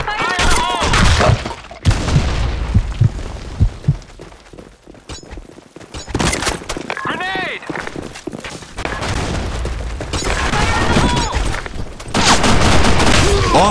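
Grenade explosions and bursts of gunfire erupt in a first-person shooter game, loud booms and rapid shots clustered in several intense volleys with brief quieter gaps between them, and players' voices shouting over the action.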